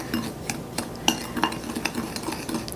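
A spoon stirs half a cup of sugar with a teaspoon of cinnamon in a bowl, giving a quick, steady series of light scraping clicks against the sides, close and fairly quiet.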